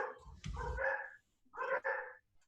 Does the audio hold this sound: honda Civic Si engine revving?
no